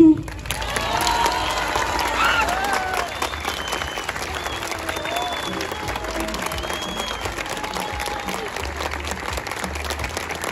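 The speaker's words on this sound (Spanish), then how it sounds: "me despides con un gran aplauso" Sustained audience applause at a live clown comedy show in Chimbarongo, Chile, a dense, even wash of clapping with scattered cheers and voices in the crowd, lasting about ten seconds.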